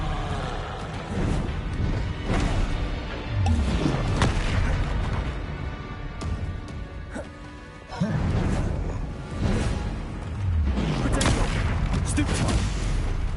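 Spell blasts and explosions crackle and boom in the Hogwarts Legacy video game, a dense, continuous barrage of loud impacts with bursts around the fourth and eleventh seconds, layered under game effects and a voice shouting spell names.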